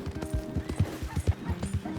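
Rhythmic hoofbeats of a horse trotting in Red Dead Redemption 2, close and steady clip-clop with a regular, even cadence throughout.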